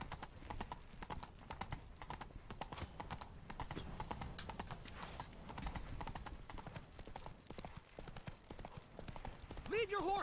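Horse hooves gallop in the video game The Witcher 3: Wild Hunt in a steady fast clip-clop rhythm, with a brief whinny near the end.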